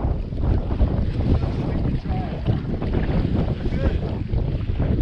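Strong wind buffets the microphone on a fishing boat on Lake St. Clair, a loud continuous roaring rush with water and hull noise underneath and muffled voices here and there.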